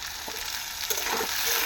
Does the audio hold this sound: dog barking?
no